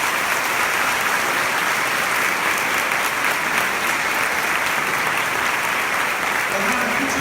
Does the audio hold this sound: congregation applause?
yes